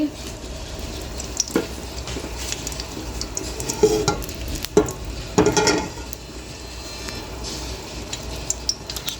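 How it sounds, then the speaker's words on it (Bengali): Oil goes into a pan while biryani rice is being cooked, with a steady low sizzle and a few sharp utensil clinks and stirring scrapes against the metal. "এখন আমি তেল দিয়ে দিচ্ছি"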